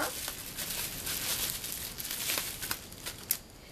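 A package of finishing powder is unwrapped, giving close, crisp crinkling and crumpling of plastic wrap with a few sharper tearing snaps, quiet and uneven in rhythm.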